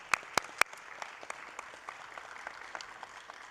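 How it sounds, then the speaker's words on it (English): Applause at a Los Angeles County Board of Supervisors meeting: a few sharp loud claps lead into thin, scattered clapping from a modest crowd in a large room, fading toward the end. "Let's give him a big round of applause."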